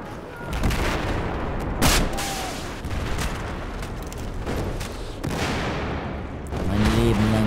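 Battlefield 4 multiplayer combat: a dense, continuous roar of gunfire and explosions with sharp blasts near the two-second mark and again late, as a wall is blown apart, steady and loud throughout.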